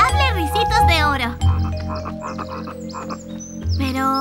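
Cartoon frog croaking in a series of loud, close, rubbery croaks with short pauses between them, mixed with bright animated squeaks and tones.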